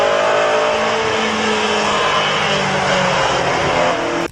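A 1966 Honda S800 Coupe's small high-revving engine screams loudly and steadily up close, a sustained buzzing rev with no talk, cutting off abruptly at the end.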